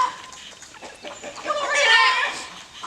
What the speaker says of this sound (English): So these are the Mille, Fleur, Bantams.